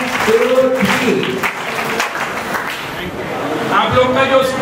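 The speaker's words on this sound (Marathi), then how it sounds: "सुरेश भाई के लिए एक बार ताली बजाइए" A group of schoolchildren at a Jain temple event in Dahanu, Mumbai, claps for a guest, producing loud, continuous applause while adult voices talk over it.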